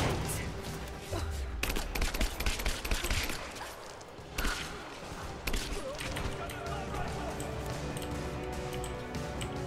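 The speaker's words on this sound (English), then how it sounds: "Someone shooting." Gunfire rings out in Rise of the Tomb Raider, sharp shots and short bursts, including an AK-47 assault rifle, scattered through a busy game mix at moderate loudness with several louder cracks standing out.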